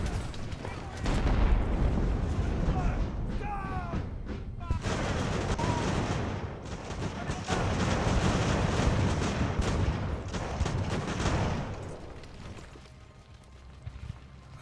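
Artillery and musket fire roll across a naval-era battlefield in Ultimate Admiral: Age of Sail, with dense overlapping booms and crackling volleys sustained for most of the stretch before thinning out near the end.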